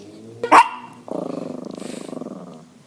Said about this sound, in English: The dog wanting to podcast.